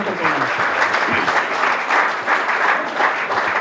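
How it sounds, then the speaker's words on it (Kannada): At a congratulation ceremony for students who passed the army Agniveer exam, an audience breaks into loud, dense applause that holds steady throughout, close and sustained, with no voices over it. "ಎಲ್ಲರಿಗೂ ಜೋರಾದ ಚಪ್ಪಾಳೆಯನ್ನು ಕೊಡ್ತಾರೆ."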